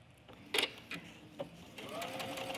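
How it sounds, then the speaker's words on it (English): A domestic sewing machine stitches a buttonhole on a front-button skirt, short bursts of mechanical whirring and clicking that settle into a steadier run toward the end, fairly quiet and close. "let the machine do the entire thing, and you're just going to keep constant pressure on the foot pedal"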